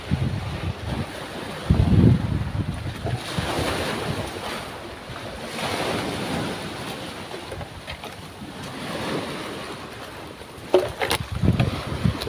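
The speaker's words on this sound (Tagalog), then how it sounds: "Lalaki ng alon mga bro." Big sea waves surge around a small fishing boat. A continuous rough wash of water and gusting wind noise swells into heavier crashes at a few points, with no voices.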